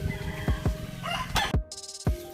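Female turkeys in a backyard pen give short, sharp clucks and calls in several separate bursts, fairly close, with no talking.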